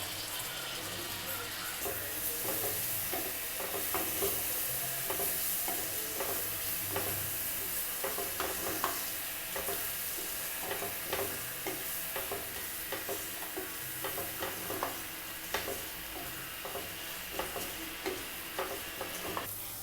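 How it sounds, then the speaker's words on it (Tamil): Tomatoes sauté in a pan with salt and cumin powder for a Tamil chicken masala gravy. A steady sizzle runs throughout, with repeated scraping and clinking from the stirring spoon. "இப்போ தக்காளி நல்லா வதங்கிடுச்சு."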